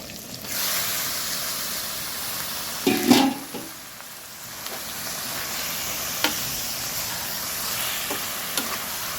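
Fish coated in ground masala sizzles in a pan, a soft steady crackle with a few louder bursts and clinks as it is stirred, heard alone at moderate volume.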